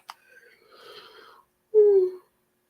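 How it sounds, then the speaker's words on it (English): A person yawns during a mediumship reading, first a breathy drawn-out exhale and then a short, tonal, moan-like yawn that is close and clear. "Excuse my yawning"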